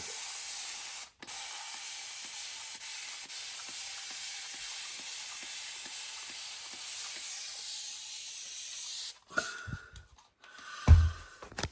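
Water spray misting cloned plant cuttings and the lid of an indoor propagation tray, a steady hiss of repeated pump-sprayer bursts lasting several seconds, close, followed by a few brief handling knocks and clatter.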